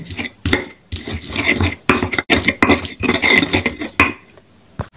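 Three cloves of garlic are ground in a kitchen, making loud, close, repeated knocking and scraping bursts separated by short gaps.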